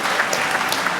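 Students and staff clap together in a round of applause at an all-school assembly, a dense, even wash of many hands filling the hall for a brief moment.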